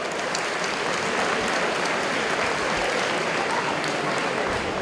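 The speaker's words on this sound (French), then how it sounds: "Quelques applaudissements pour lui." Steady, dense applause from a crowd at a kickboxing championship night, continuous and fairly loud from start to finish with no break.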